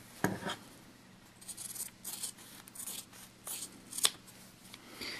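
Scissors snip through sewn fabric while trimming small dollhouse pillows, producing several close, quiet, irregular cutting crunches and rustles with no voices.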